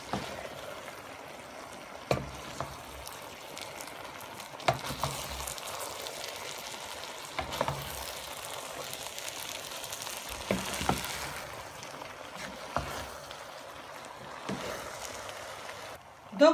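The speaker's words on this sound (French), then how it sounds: "J'ai rajouté le riz. Je vais bien mélanger délicatement sans le casser." Washed rice being stirred gently into vegetables frying in a pot for vegetable pilau, a soft continuous sizzle with scraping and stirring sounds and occasional clinks, close and steady with no talking.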